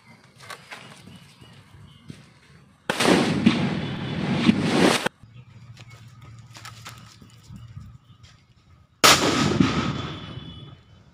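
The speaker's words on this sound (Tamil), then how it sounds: "நம்ம இவ்வளோ பெரிய வெடி வெடித்தோம்" Two loud, sharp firecracker blasts on a coconut a few seconds apart, each followed by a brief rushing burst of noise, with quieter crackles and rustling between.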